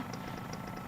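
A motorcycle engine idles with a steady, even throb and a faint rapid pulsing, close by and continuous.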